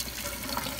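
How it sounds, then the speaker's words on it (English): Real water running during a test of a Nintendo Switch travel case, a steady close hiss of flowing water with no talk over it. "that is real water running"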